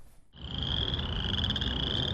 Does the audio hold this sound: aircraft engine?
no